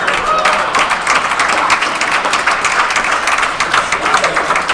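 Dense, steady applause from a racquetball crowd after a long rally in the 2015 St. Louis Open finals, a loud continuous wash of many hands clapping together with no pauses.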